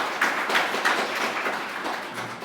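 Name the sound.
audience applause for the presenter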